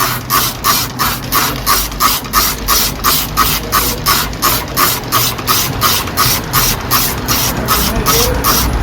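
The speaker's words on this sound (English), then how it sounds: "Wherever I see dry bits, I mist." A handheld spray bottle mists balcony garden plants, a steady, rapid series of about twenty short, hissing squirts with pump clicks, loud and close, repeating at an even rhythm.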